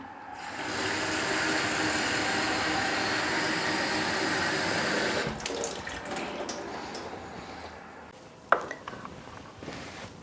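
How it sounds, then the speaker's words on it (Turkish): A kitchen tap pours water steadily to water a plant, a loud rushing flow that stops partway through and gives way to quieter drips and a few clinks. "Bu bitkiye mutfakta su veriyorum. Suyu açıyorum."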